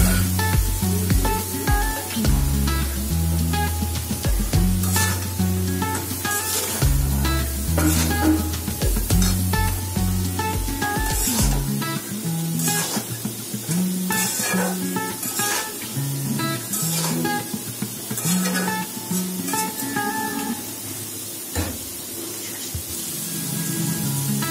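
Taro stolons tossed into a pan after prawns, frying and being stirred in a village home kitchen, with a steady sizzle and repeated scraping and clanking of the spoon against the pan throughout.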